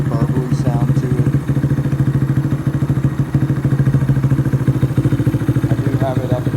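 A 2019 Honda Grom with a full Vance and Hines exhaust, parked against a wall, runs close and loud with a deep, burbly pulsing idle and light throttle blips that turn crackly and poppy at low RPM.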